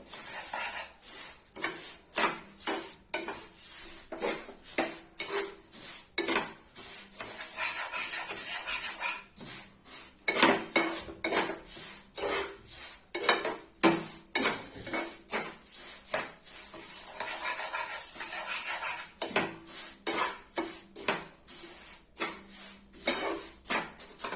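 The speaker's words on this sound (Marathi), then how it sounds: "चारी बाजूने मिश्रण काढून घ्यायचं।" Sesame ladoo mixture is scraped from all sides of a pan with a metal utensil, producing sharp, rhythmic scraping and clanking strokes that repeat close up throughout, with no talking.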